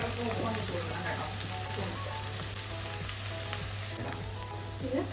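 Onion and green chilli sizzle briskly in a hot pan, a dense, even frying hiss with occasional stirring scrapes throughout, no talking.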